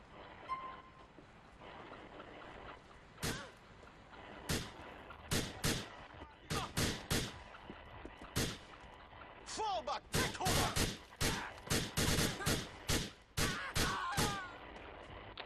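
Gunfire in the video game GTA IV: sharp single shots spaced irregularly early on, then a dense volley of rapid cracks near the end over a quiet low background.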